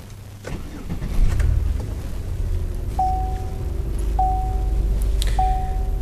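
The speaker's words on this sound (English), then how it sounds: "let me start the car here." A car engine cranks and catches during an alternator test with a multimeter, then settles into a steady low idle, while a thin electronic beep repeats three times over the running engine.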